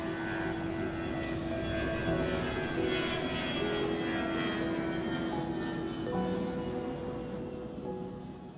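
A deportation flight bound for Denver passes overhead, its engine drone loud and steady with a tonal whine that shifts slightly in pitch as the airplane moves, fading a little toward the end.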